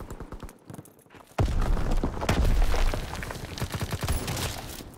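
Shotgun fire and dense battle noise in the Call of Duty WWII beta, a quiet stretch broken by a sudden loud burst of shots and booms that carries on as a heavy barrage.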